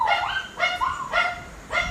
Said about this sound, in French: Ce sont vos 2 petits chiens, on les entend.